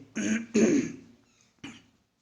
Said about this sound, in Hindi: खांसी आ गई, माफी चाहता हूं